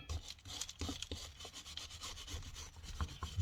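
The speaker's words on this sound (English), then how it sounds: "Scrape off what I can." Dirt is scraped off the final drive of a Mahindra 5010 tractor during disassembly. Close, uneven strokes rasp and rub in a steady series of short scrapes, heard alone without talk.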